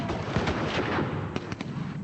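Heavy volleys of rifle and artillery fire from Boer positions in the Boer War, a dense, continuous roar of overlapping shots with a few sharper cracks near the end.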